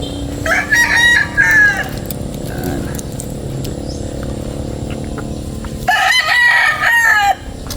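Two loud rooster crows ring out nearby, one at the start and another near the end, separated by a stretch of quieter farmyard background.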